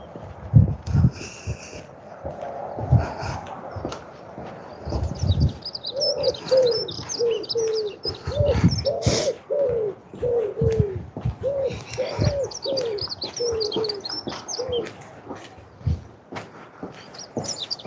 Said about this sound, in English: I think it was an owl. Or a bird of some sort.